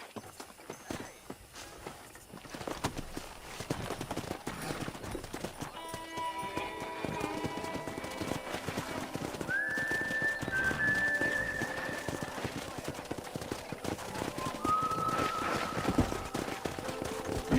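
Hooves clip-clop over the ground as horses move about in the video game Red Dead Redemption, with an occasional whinny and a whistle rising over a low, steady background.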